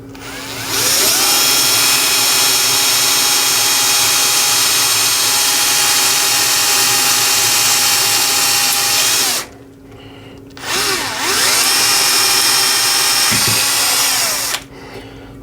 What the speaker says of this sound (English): I'm just using a 2mm drill, so those sheet screws got something to bite into.